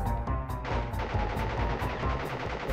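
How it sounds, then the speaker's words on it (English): A boss firing his gun in Crash Bandicoot on PS1: rapid, evenly spaced shots in a loud continuous burst, punchy and close over a busy game background. "All you've got to do, basically, is hide while he's shooting his gun."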